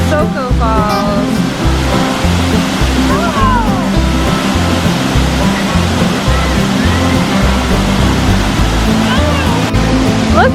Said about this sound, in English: Soko Falls.